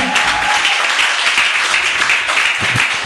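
A church congregation applauds in praise during a service, steady dense clapping filling the whole stretch with a faint murmur of voices beneath.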